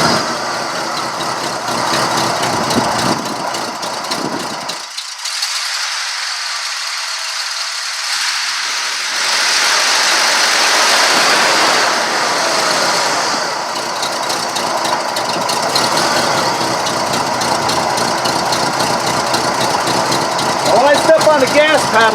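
A junkyard Cadillac engine with a Rochester carburetor, fitted with a new cap, plugs and wires, cranks, catches and settles into a rough, rattling idle with occasional revs, close by, while someone talks.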